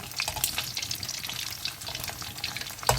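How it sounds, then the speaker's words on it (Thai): Thai pork sausage (moo yor) fries in a pan, a dense, close crackling sizzle with bright pops throughout and a slight stir or scrape near the end, no voices over it. "เดี๋ยวทอดไปเรื่อย ๆ นะคะ เดี๋ยวค่อยกลับด้าน เริ่มกลับด้านได้เลย"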